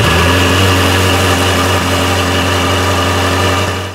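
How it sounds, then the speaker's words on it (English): A Ferrari 360 engine idles at tick over after an engine bay cleaning, giving a steady, loud, continuous low hum with constant tone and no voices for the whole stretch before fading slightly at the end. "all that was left to do was to fire the beast up, allowing the warmth of the engine on tick over to dry off any remaining unseen moisture"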